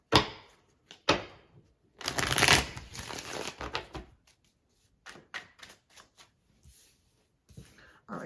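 Tarot cards shuffled by hand, close crisp riffles and slaps in irregular bursts with a longer run in the middle, scattered taps between, no talking.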